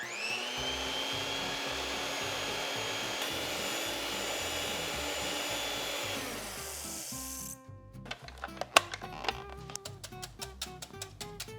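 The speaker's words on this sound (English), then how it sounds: "And now we're just going to beat 3 egg whites until we get stiff white peaks." An electric mixer beats three egg whites in a large bowl toward stiff peaks, giving a steady high whirring hum for several seconds. It then stops, leaving scattered clicks and clatter.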